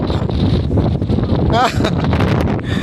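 Strong wind by a river buffets the microphone with a heavy, rumbling roar, while a person talks over it in Filipino.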